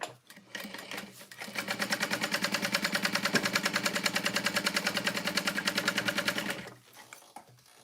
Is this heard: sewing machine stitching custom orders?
yes